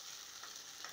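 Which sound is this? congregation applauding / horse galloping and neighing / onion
onion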